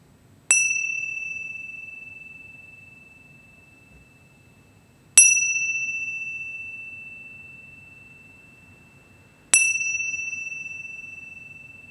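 Meditation bell struck three times at even intervals, each clear ringing tone sustained and slowly decaying into a quiet room at the close of a breathing exercise in a university emotional-wellbeing workshop.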